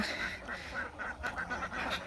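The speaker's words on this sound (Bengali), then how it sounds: "হাঁস হাঁসের গোসল করতেছে দেখেন" Ducks quack repeatedly in a busy, overlapping chorus as they bathe in a river, close by, with light splashing and background noise throughout.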